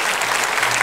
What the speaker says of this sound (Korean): 박수로 축하합시다.